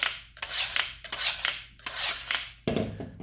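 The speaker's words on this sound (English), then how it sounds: "So all you need to do is run it through a rapid steel sharpener like this." A chef knife is drawn through a rapid steel sharpener in quick, rough rasping strokes, about four in a row, ending with a duller scrape, close and with no talking.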